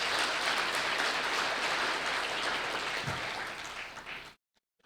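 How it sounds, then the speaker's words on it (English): Audience applause after a talk on gun rights, a dense steady wash of many hands clapping near and loud for about four seconds, then cutting off abruptly to silence. "yeah, give yourselves a round of applause"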